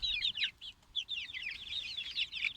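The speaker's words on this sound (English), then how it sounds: "This is our rooster for sure." A rooster penned with other chickens gives repeated warbling calls, fairly close and loud, with brief pauses between bursts over a faint low background.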